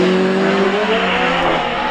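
A Van Diemen ex-Formula Ireland race car with a Maynard-built engine screams past at a hillclimb, loud and close, its engine note climbing steadily in pitch as it accelerates.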